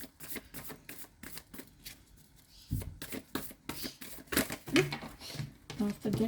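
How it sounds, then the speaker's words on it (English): Tarot cards being shuffled by hand, with quick papery riffles, slaps and scattered flicks as part of the deck spills out, close by, and faint voices underneath. "Half the deck just goes flying."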